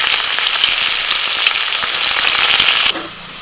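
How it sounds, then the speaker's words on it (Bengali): Chopped onion dropped into hot oil already used for frying potatoes, a loud close crackling sizzle that cuts off sharply near the end, leaving a quiet hum. "ওই তেলের মধ্যে দিচ্ছি পেঁয়াজ কুচি"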